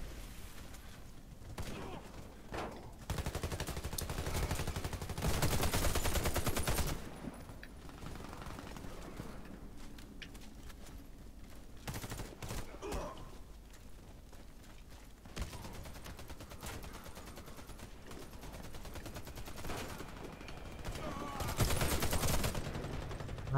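Gunfire in Warface team deathmatch on PS4 crackles in repeated bursts and rapid automatic volleys, with a few louder stretches of firing over a constant busy game background.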